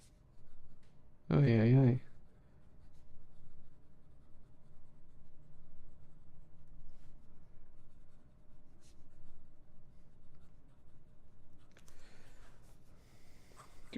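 An Aurora 88 Blue Mamba fountain pen writes quickly across paper with a faint, soft scratching, and a short spoken exclamation breaks in near the start.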